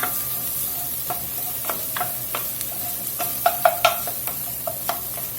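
Three cloves of garlic sizzling with onions in a pan while being stirred, a constant loud hiss of frying with repeated quick spoon scrapes and clicks that cluster toward the end.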